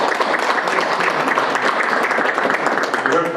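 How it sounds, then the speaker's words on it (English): Audience applause at a gathering of political representatives, a steady wash of many hands clapping throughout at fairly close range, with no voices standing out. "Let's give us all an applause for it."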